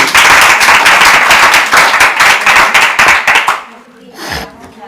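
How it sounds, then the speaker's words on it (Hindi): An audience at a televised Hindi quiz show claps loudly in dense, continuous applause for about three and a half seconds before it abruptly stops, leaving faint room noise. "तालियां बजा के स्वागत कीजिए।"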